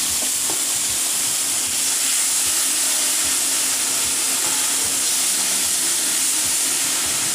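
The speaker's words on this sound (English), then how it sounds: "Then I'm going to throw my garlic in here. And just let the garlic just toast." Garlic toasting in olive oil in a cast iron pan sizzles steadily with a bright, constant hiss, a few faint clinks underneath.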